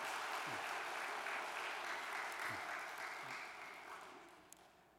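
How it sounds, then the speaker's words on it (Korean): A congregation at a Chuseok church service applauds with a soft, distant patter that slowly fades, a few louder claps standing out near the start before the room grows quiet. "평강을 위해 박수를 한번 보내십시다"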